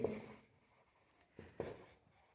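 Pen writing notes on paper, a few short scratchy strokes close by and quiet, separated by brief pauses.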